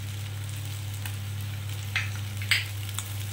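Spices are stirred into hot oil with a spatula, giving a steady frying sizzle over a low hum, with a couple of faint scraping strokes.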